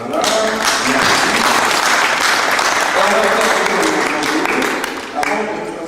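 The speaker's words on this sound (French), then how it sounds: "On peut l'applaudir, s'il vous plaît." Dense, steady applause from an audience at a Paris city hall ceremony in May 2005, loud and continuous for about five seconds before thinning slightly near the end.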